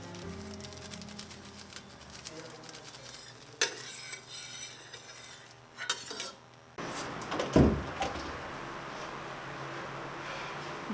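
Pots, pans and utensils clatter and scrape in a home kitchen during cooking, with scattered knocks and stirring, followed by a louder stretch of sizzling frying and a sharp metallic clank.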